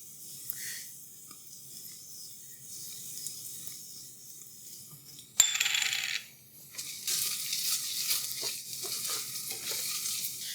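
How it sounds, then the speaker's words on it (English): Tomato paste cooks in a pan for marinara pizza sauce, giving a soft steady sizzle, then a sharper scrape and clatter as it is stirred around midway, followed by continued frying with repeated stirring scrapes. "we're going to cook this tomato paste until it darkens in color"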